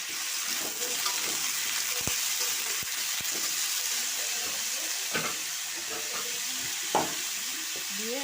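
Spices sizzle and fry in a pan as potatoes and jackfruit seeds are added, a steady close hiss with occasional clinks and stirring scrapes.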